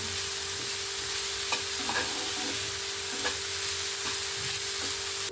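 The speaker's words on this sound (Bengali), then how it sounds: "আমি সবজিগুলোকে হালকা করে একটু ভেজে নিয়েছি" Vegetables with beans lightly frying in a pan for a semolina breakfast dish, a steady soft sizzle running throughout with occasional faint stirring scrapes, no voices.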